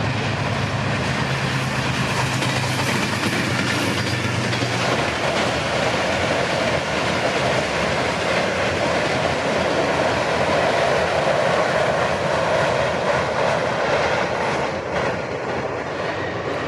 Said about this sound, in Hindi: गुजरांवाला से होते हुए 102 डाउन सुबह रफ्तार एक्सप्रेस लाहौर जाने के लिए अपर चिनाब कैनाल के पुल से पास होने वाली है।